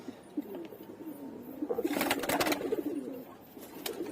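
A baby pigeon held in a hand gives soft, close cooing calls over faint rustling and handling noise.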